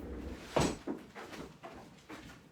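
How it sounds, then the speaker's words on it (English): A door is pushed shut indoors at home, giving one firm thump near the start, followed by quieter knocks and faint room noise. "Let's shut the door."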